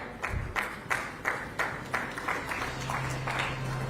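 Audience at an Indian health awards ceremony applauding as an award is presented, clapping in a loose rhythmic patter that pulses roughly every third of a second, moderately close, with a low hum underneath.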